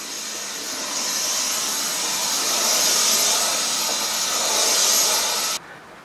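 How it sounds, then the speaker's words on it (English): A vacuum cleaner runs aboard a sailboat as a steady, loud, rushing hiss that swells slightly, then cuts off abruptly near the end. "Vacuum."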